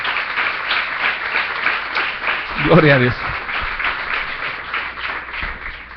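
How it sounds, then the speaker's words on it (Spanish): A church congregation applauds continuously throughout, a dense steady wash of clapping with a voice speaking briefly over it. "Dele palmas al Señor."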